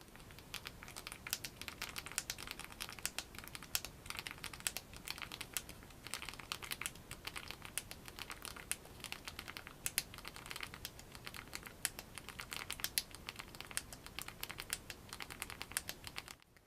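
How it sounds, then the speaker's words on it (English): Someone types on a BlackBerry physical keyboard, a quiet, dense run of small clicks and taps continuing at a brisk irregular rhythm, with the sharper clicky spacebar strikes mixed in throughout. "once I start typing and I start hitting the space bar as I'm typing, the sound is very different"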